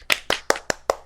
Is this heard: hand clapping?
yes